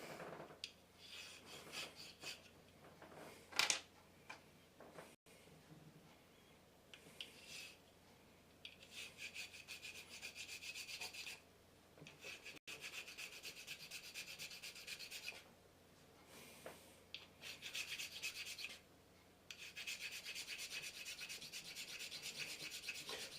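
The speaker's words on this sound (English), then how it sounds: "I'm going to use the big file." A big metal file rasps against a soft white-metal model railway rolling stock part, giving repeated uneven scraping strokes with short pauses between them, close and fairly quiet, with no voices.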